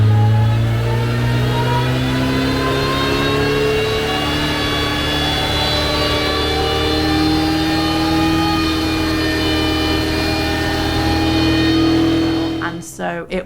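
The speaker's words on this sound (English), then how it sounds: "on a Rolling Road, you rev it up and down so you can get the graphs of how the car is performing" A race Porsche 924 engine revs hard on a rolling road dyno, a loud sustained high-pitched drone with strong harmonic whine held steady, then dropping away abruptly at the end.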